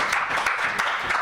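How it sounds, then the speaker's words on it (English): A short burst of audience applause at a climate crisis panel in India, a dense, even clatter of many hands clapping at once, fairly loud and close. "So let's just give them a round of applause."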